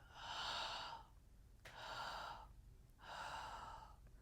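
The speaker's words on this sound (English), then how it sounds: "Once more, inhale. Holding here for a brief moment. Exhale out the mouth." Slow breaths in a yoga pranayama breathing exercise, three long airy breaths with a rising and fading rush of air, soft and close.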